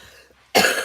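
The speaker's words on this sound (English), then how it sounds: "Stop coughing." A single short, sharp cough up close, breaking out of near silence and ending with a small second burst.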